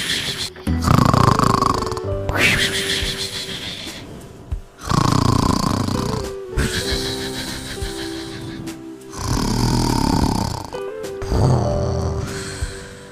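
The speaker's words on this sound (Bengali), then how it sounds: "ছাগল আর তার ছোট ছানা শিয়ালকে খুঁজতে খুঁজতে শিয়ালের নাক ডাকার আওয়াজ শুনতে পেল।" A cartoon fox asleep under a tree snores loudly in long, rasping rounds, roughly five drawn-out snores separated by short pauses, close and alone, with a grunting snort in places.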